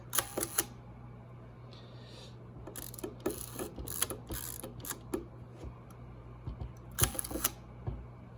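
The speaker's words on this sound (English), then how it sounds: "Let's see the shutter from the back." Repeated mechanical clicks and snaps of a vintage Voigtlander Prominent camera shutter being fired and wound at slow speeds, close up, in irregular bursts against a faint steady hum.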